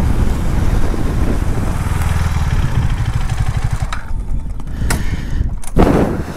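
A KTM Duke 390 motorcycle runs at high speed in sixth gear, its engine a loud, steady drone with wind rush, dipping briefly near the end.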